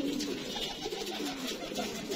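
Racing pigeons coo amid a steady, dense wash of broadband noise, the low murmuring calls running continuously without clear pauses.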